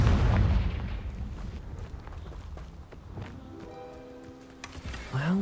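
A Confringo fire spell in the Hogwarts Legacy video game bursts with a heavy low boom at the start that slowly decays, followed by scattered soft thuds and a short rising tonal sweep near the end.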